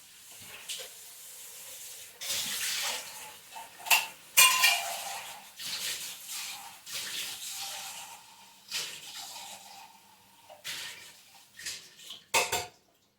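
Water splashes and sloshes inside a metal can as it is rinsed out at a cowboy camp, with hissing pours and tinny clanks coming in uneven bursts at close range, and no talking.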